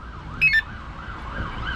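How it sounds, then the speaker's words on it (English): A car alarm on a Honda DC5 with a K24 engine wails in a steady rising-and-falling siren pattern, with two short sharp chirps near the start, heard at moderate distance. "Oh, it's got an alarm."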